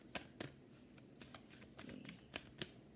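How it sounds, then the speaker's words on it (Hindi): A quick shuffle of tarot cards by hand: a short run of soft, close riffling taps at an uneven rhythm over faint room noise, with no talking. "बट अगेन एक क्विक शफल फिर से."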